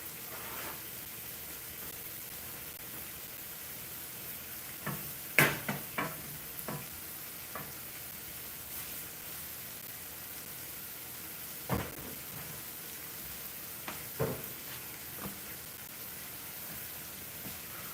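Frozen mixed vegetables cooking in a pan for a Punjabi mixed vegetable curry, a faint, steady sizzle with a few soft clicks and knocks from stirring.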